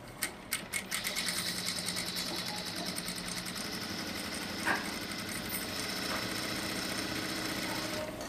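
A sewing machine stitching along a fabric edge during a basic edge and center stitching lesson: a few separate clicks, then a steady, fast mechanical chatter that continues loud and unbroken to the end.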